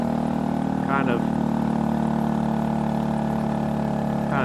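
A Honda Grom motorcycle engine labors and bogs on a steep canyon climb, a continuous loud drone with steady low hum throughout, overlaid by wind rush and a rider talking.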